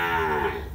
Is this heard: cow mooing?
yes